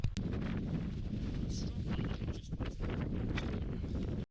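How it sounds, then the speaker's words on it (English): Strong wind buffets the microphone on open mountain ground, producing a loud, continuous roar that sounds close and rough and stops abruptly at the end. "I'm going to measure the wind"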